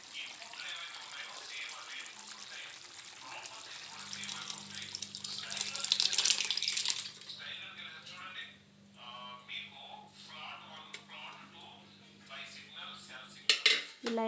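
Water poured and cooked dal stirred into spinach in a steel pot, with metal clinks, scraping and splashing under steady talk, a low hum running through the middle.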